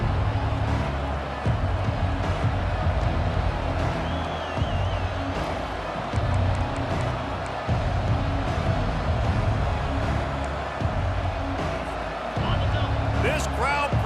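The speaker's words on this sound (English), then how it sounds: "This crowd bringing the energy and noise early." Stadium crowd at an Oregon Ducks vs Texas Longhorns college football game gives a loud, continuous roar with swells of cheering, under steady play-by-play commentary throughout.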